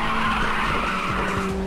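Tires skid and squeal steadily as a car drifts through a corner in the PSP racing game Ridge Racer, a loud sustained screech over engine drone with no talk.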